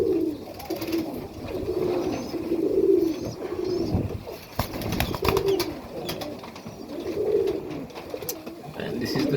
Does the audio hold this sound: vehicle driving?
no